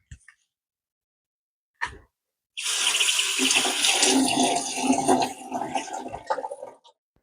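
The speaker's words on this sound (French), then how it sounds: "j'arrose les plantes qui sont dans les vases" Water is poured onto an Alocasia and other potted plants standing in decorative pots, a close, steady splashing trickle lasting several seconds after a couple of short knocks, then tapering off.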